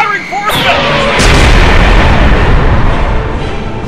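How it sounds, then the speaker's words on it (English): A video game's orbital nostalgia cannon fires: a sharp blast that swells into a loud, sustained booming roar of artillery-like rumble lasting several seconds, close and overpowering. "fire the orbital nostalgia cannon"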